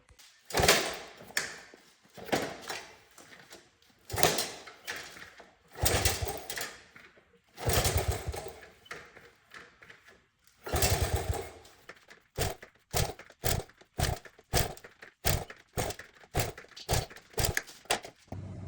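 An old, abandoned Honda CT70 motorcycle is kicked over repeatedly without starting, making a series of sharp mechanical strokes and brief engine churns. The strokes come in uneven groups, then in faster, closer repetitions.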